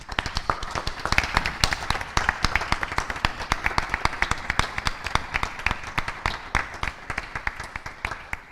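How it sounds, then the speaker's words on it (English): An audience at a board of education meeting claps for an award winner, a moderate room full of distinct, rapid hand claps that hold steady without talk. "Please help me give her a big round of applause."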